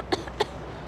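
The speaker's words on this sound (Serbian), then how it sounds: "Kašlješ" Two short, close coughs about a quarter second apart, dry and sharp against a quiet indoor background.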